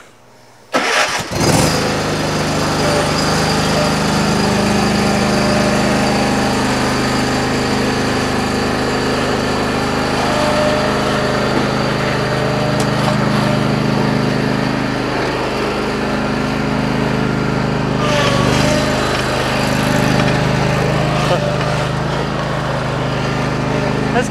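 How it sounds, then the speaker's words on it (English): A zero turn lawnmower engine starts abruptly and then runs steadily at a loud, constant idle with a droning hum, close to the listener, with no talk over it. "You're gonna need a good zero turn lawnmower."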